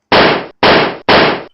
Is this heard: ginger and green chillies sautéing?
no